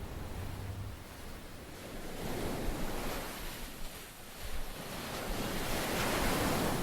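Ocean waves pound a coastline in a dense, continuous roar of surf that swells louder and softer over several seconds, mixed with wind.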